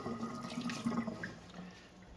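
Aquarium sponge filter squeezed out by hand, water gushing and splashing in a short burst that fades, close and moderately quiet, with no talk.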